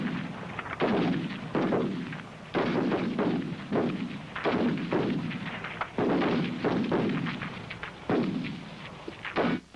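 A rifle fired in repeated bursts at a 100-metre target during military small arms trials, with about ten sharp, loud reports spaced roughly a second apart, each followed by a ringing outdoor echo.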